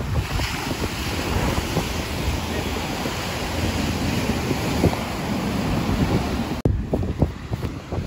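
Ocean waves roll in at a seaside shore in Sri Lanka with strong wind buffeting the microphone, a loud continuous roar of surf broken by a brief handling bump near the end.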